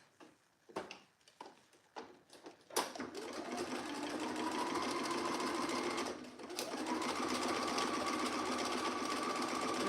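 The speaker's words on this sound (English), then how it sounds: "we're just going to machine tack this together, the open edges." A sewing machine tacks the open edges of a jacket together with a long stitch. A few separate knocks and starts lead into a steady, continuous mechanical whirr that runs close and loud, pauses briefly, then resumes.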